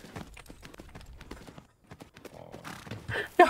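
In a horse riding video game, a young horse's hooves clip-clop in an even canter rhythm, fairly soft, with a brief pause, then a louder burst of game sounds near the end.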